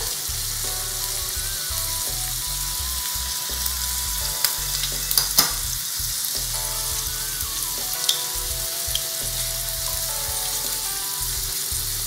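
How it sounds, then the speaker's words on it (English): Shrimps fry in a pan just after being flipped, a dense, loud, continuous sizzle with a few brief clinks of a utensil midway, heard over faint background music with no talking. "These shrimps smell delicious, so I'm gonna go ahead and flip them."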